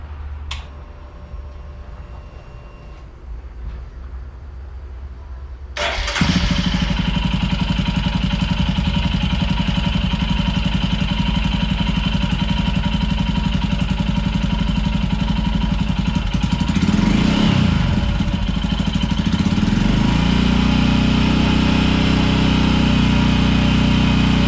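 Royal Enfield Scram 411 motorcycle engine, fitted with a performance cam and rewired, cranks and catches at about six seconds, then settles into a loud, steady idle close by, with a brief throttle change near seventeen seconds.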